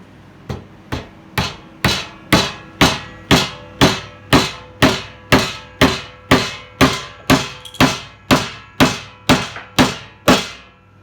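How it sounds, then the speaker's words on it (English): A wooden handle is driven into a wooden Thor hammer head with another hammer: about eighteen sharp, loud knocks in a steady, even rhythm, each ringing briefly before the next. "We're just going to put the handle into the head of the Thor hammer using, which we'll get to later, my own Thor hammer."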